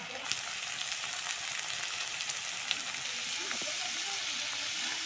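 Morola fish frying in hot oil in a pan, a steady dense sizzle and crackle running throughout at close range with small stirring clicks, no talking.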